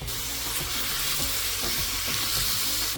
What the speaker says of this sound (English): Then I add the pork belly, and I cook it until it's slightly brown